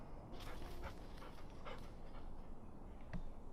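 A dog in the woods, heard close with soft panting and faint whimpering, steady and low over a continuous outdoor background, with no talk.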